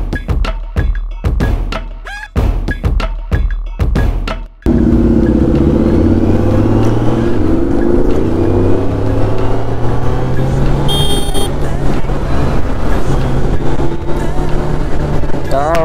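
Kawasaki Z900 or Ducati superbike: sharp throttle blips in the first seconds, then a steady loud engine drone that rises and falls as it accelerates, with talking heard over it.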